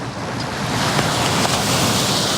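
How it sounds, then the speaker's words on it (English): Waves crash steadily on the San Francisco Bay shore in a protected area as a storm approaches, a continuous broadband roar of surf with wind noise buffeting the microphone, loud and close with no talking. "And right now we're seeing the waves crashing up here, and we're in a protected area."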